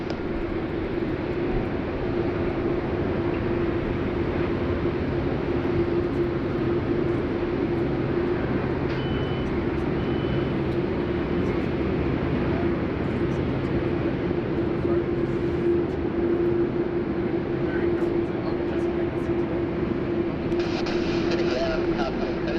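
An airliner taxis toward runway 34 Left at Sydney Airport, a steady, continuous engine drone with a sustained low hum that holds level throughout, while a voice talks over it.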